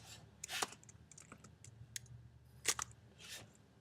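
Keys on a computer keyboard clatter in a handful of quiet, irregular clicks and taps, close and faint against a hushed room.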